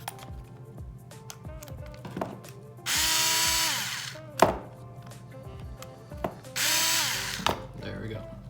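Two bursts of a power driver spinning out small screws from the sway bar of a Traxxas Slash 4x4 RC truck, each whir lasting about a second, with light clicks and handling taps of parts between them.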